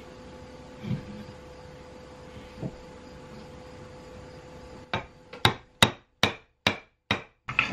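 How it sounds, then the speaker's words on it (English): Several sharp hammer taps on a block of wood, driving a wooden plug into a hole, come in a quick, fairly even series near the end, after a quiet stretch with a couple of soft knocks. "I was just using a hammer and a block of wood"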